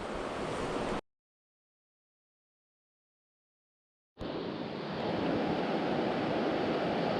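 The Williams River flows with a steady, broadband rushing wash. The sound cuts to silence for about three seconds, then returns just as strongly.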